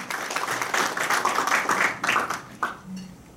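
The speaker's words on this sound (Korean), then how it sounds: "김일봉 원장님을 큰 박수로 모시겠습니다." A crowd at a medical ultrasound symposium in Changwon applauds with brisk, steady clapping that swells and then tapers off, a few claps trailing at the end.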